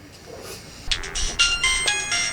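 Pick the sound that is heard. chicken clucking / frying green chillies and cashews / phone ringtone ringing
phone ringtone ringing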